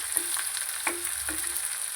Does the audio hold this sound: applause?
no